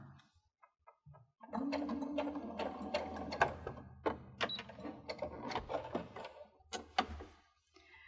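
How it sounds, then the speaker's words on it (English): A sewing machine stitches quilt binding up to a corner, running in a short pause-and-go burst with a busy mechanical whirr and repeated needle clatter, close and fairly quiet, with no speech. "I'm going to sew to that point. And then stop, and then you're just going to pivot your fabric and sew right off into the corner."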